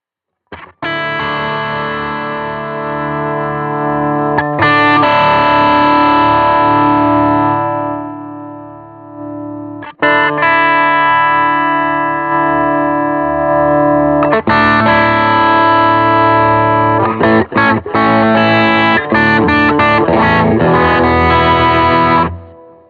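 Electric guitar through an Ampeg B15N amp plugin with a distorted, chorused tone, loud sustained chords ringing out, a brief pause, then further strummed phrases with choppy rhythmic hits near the end; no talking.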